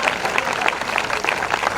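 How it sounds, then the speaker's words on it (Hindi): A church congregation at a prayer service claps briefly together, a dense, steady burst of hand claps close by with a murmur of crowd underneath. "तालियों के साथ धन्यवाद करें"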